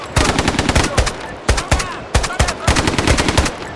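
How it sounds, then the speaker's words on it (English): Rifle gunfire in a military shooter game, a rapid string of loud, close shots in several bursts with brief pauses between them; no talking. "This rifle indeed does have quite a kick to it."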